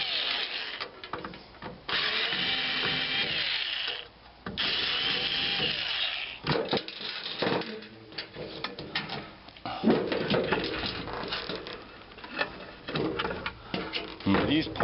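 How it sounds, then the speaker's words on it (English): Screws are being taken out of a transformer during scrapping, with clattering tool and metal handling noises and short whirring bursts close by while a person talks over the work. "We'll just take the screws out."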